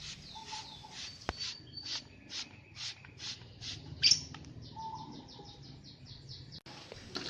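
Lovebirds give a run of repeated bright chirps and short calls, steady and close, with a brief louder squawk midway and a faint rustling background.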